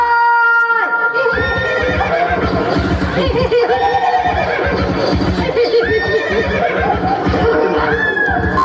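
A horse neighs and whinnies several times, loud and close, its shrill calls rising and falling over a steady busy background.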